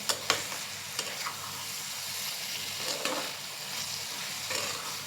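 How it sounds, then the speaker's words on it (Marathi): Bitter gourd cooking with jaggery in a pan, stirred now and then with a spoon, giving a soft continuous sizzle broken by a few sharp scraping clicks against the pan, with no talking. "आता आपण हे कारलं परत 2 मिनिटं वाफवून घेणार आहोत."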